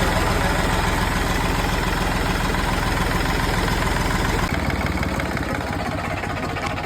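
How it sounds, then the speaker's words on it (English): A three-cylinder stationary engine chugs steadily with a rapid, even rhythmic beat, loud and near, its tone shifting slightly partway through. "My uncle's got so many stationary engines, and he decided to fire this one up as well."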